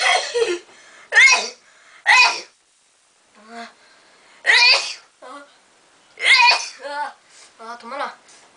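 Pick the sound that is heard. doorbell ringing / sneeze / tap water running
sneeze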